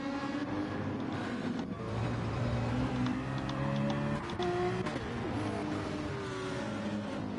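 GT race cars, including a Citroen and a Porsche, racing at Barcelona in a sim-racing game, engines droning and whining steadily with shifting pitches as several cars run together.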